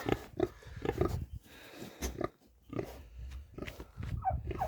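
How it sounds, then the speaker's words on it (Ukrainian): Pigs grunt and snort repeatedly at close range on a farm on a warm early-spring day, the short bursts coming in an irregular rhythm. "свинюки."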